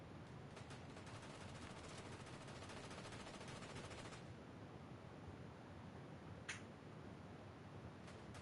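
Faint, continuous automatic gunfire aimed at the player in Fortnite, a low rattling barrage for about four seconds, then a quieter background with a single distinct shot.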